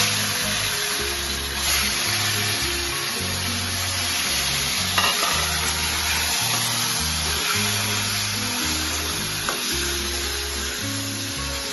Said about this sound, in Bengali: করলাটা তেলের মধ্যে ছেড়ে দিচ্ছি।